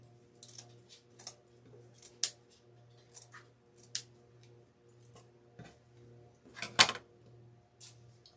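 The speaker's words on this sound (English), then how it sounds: "I'm going to leave about a good ½ inch and cut around in a circle." Scissors trimming fabric in a circle around an embroidery hoop, leaving a half-inch margin: a series of quiet, crisp snips spaced about a second apart over a soft steady hum, with one sharper louder cut near the end and no talk.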